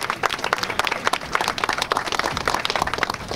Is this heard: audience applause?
yes